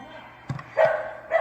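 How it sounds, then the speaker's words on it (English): A dog barks in short bursts during an enrichment thinking game, with two louder barks standing out against a quiet indoor background; someone talks briefly near the middle. "So he stood there barking longer than he had"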